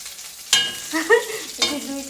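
Pieces of fish fry in a pan, a soft low sizzle punctuated by a couple of sharp clatters and scrapes as they are moved, close by with no talking.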